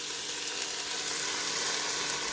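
Tomato sauce hitting the hot pot of a Ninja Foodi, a steady close sizzle and frying hiss with no talking.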